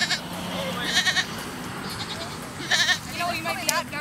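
A goat bleats in short bursts while a racing team herds it into a pen during an outdoor Amazing Race competition in Chatham-Kent, with crowd noise and talking throughout.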